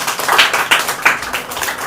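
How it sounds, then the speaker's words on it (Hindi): A few people clap in a quick, uneven burst of about half a dozen sharp claps, close and fairly loud, in an indoor setting. "वो ताली बजा रहे हैं. They are clapping."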